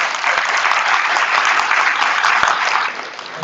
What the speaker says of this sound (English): Please give a big round of applause to our panelists.